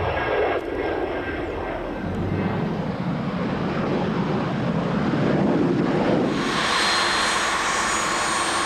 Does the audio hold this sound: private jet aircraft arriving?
yes